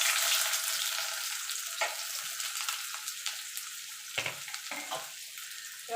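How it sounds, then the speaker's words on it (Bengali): Onion sizzles in hot oil in a wok, a steady crackling hiss with a few stirring knocks, close and fairly quiet, with no talking. "এবার আমি পেঁয়াজটা দিয়ে দেব"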